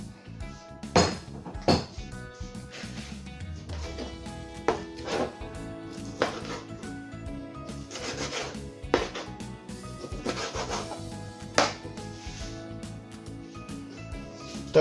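Knife cutting beef into pieces for Moscow-style sausage on a board, a series of irregular knocks and clinks at close range, alone without talk.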